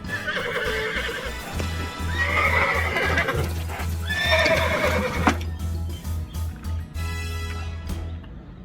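A plastic toy plays a horse whinnying several times over clip-clopping hoofbeats, with a low electronic buzz running underneath.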